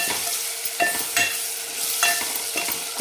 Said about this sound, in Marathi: आपण एक छोटा गावरान टोमॅटो घेतलेला आहे, आपण याच्यामध्ये परतून घेऊ